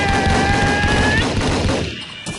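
Gunfire in the Roblox game Battlefield, dense broadband bursts filling the clip with a tone fading early and the racket thinning near the end.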